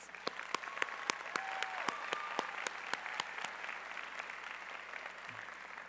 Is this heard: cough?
no